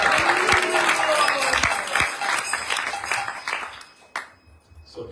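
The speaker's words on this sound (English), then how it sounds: "There has to be a lot of applause in that." Applause at a Saturday love feast gathering, a crowd clapping loudly for several seconds before thinning out and fading toward the end.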